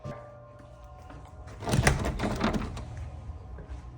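A back door is rattled and tried in a house, a brief burst of thumping and handle clatter in the middle of an otherwise quiet moment, fairly close and without talk.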